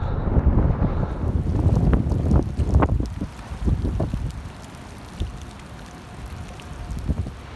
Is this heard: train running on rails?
no